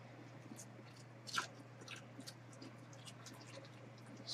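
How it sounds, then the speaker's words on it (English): Close, quiet munching and chewing of food in a home kitchen, a series of soft wet bites and crunches with one sharper crunch early on, over a faint steady hum. "Stop with the munching."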